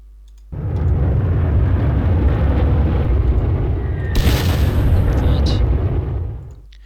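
Bombing run by a level bomber on a fortified strong point in the wartime strategy game Panzer Corps, during the Modlin Fortress battle: a sustained loud rumbling barrage of blasts lasting several seconds, with a sharper crack partway through.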